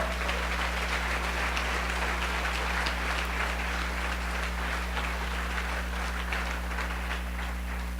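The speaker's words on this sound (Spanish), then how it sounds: "Dale un aplauso al Rey" Steady congregational applause during a church service, a continuous wash of clapping over a low electrical hum, moderately faint and without speech.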